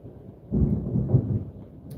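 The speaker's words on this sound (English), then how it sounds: "There goes the thunder." Thunder rolls in as a low, deep rumble that swells suddenly, lingers for over a second and then fades, heard alone with no talking.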